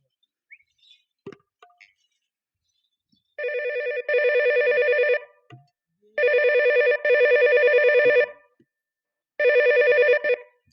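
An electronic phone ringtone plays in three loud, steady bursts separated by short pauses, with a few faint clicks before the first ring.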